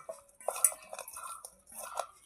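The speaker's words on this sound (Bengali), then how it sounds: "আমি মাছটাকে ভালোভাবে নুন হলুদের সাথে মিশিয়ে নিচ্ছি বা মেখে নিচ্ছি" Snakehead fish being rubbed by hand with salt and turmeric in a metal bowl, giving soft, close wet squelches and intermittent light clinks against the dish, with no talking.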